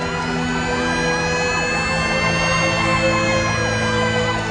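Fire engine siren wailing in a steady rising-and-falling sweep, loud and close, repeating about every half second over a continuous engine drone, with no voices.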